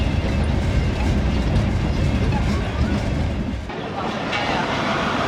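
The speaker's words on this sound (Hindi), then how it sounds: "और 37 फरीद एक्सप्रेस भी आ गई है ब्रांच लाइन पे" A Pakistani passenger express train runs on rural Punjab rail lines, a loud continuous rumble with rhythmic clickety-clack of wheels on track, dipping briefly before steadying again.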